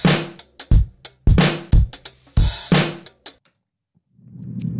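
Drum loop in Pro Tools with every snare hit swapped for a second snare sample, playing as a tight rhythmic pattern of punchy kicks and bright snare cracks that stops abruptly, followed by a faint low hum.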